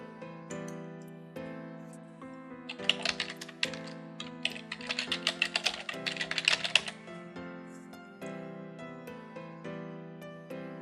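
Someone types an email address on a computer keyboard in a steady patter of key clicks that briefly speeds into a busier, louder flurry, with soft background music underneath.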